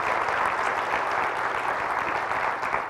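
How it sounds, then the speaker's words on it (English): Audience applause for elected officials at a school district State of the District event, a dense, even roar of many hands clapping at once that holds steady for the full few seconds. "Some applause for our elected officials"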